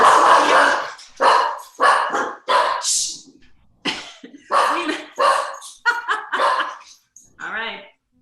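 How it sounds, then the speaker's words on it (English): A visiting dog barks repeatedly and loudly close by, about a dozen sharp barks in uneven bursts with short gaps, ending in a softer, growly yip. "All right, we have a guest dog."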